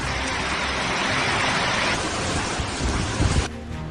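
Heavy rain pours down in a steady broadband roar with a low rumble of thunder near the end, then the downpour thins abruptly; no voices.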